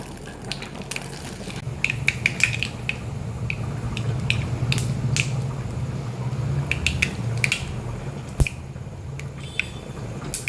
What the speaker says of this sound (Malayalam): കുറച്ച് കടുക് ഇടുന്നുണ്ട്.